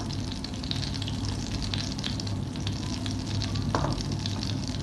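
Butter for paneer butter masala melts in a hot pan, giving a dense, steady sizzle and crackle throughout, close by with no voices.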